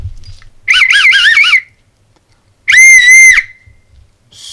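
Two loud, shrill blasts from a small 3-in-1 camping gadget whistle with compass and thermometer, the first warbling for about a second and the second a steadier piercing tone, separated by near silence.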